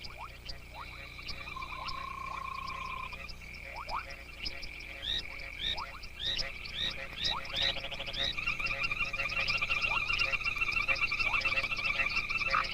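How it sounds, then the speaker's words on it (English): A chorus of great gray tree frogs croaking in East Africa after rain, with repeated calls overlapping and building to a dense, steady trilling din by the end. "The great gray tree frogs, plump again after months of baking sun, begin their elaborate spawning process."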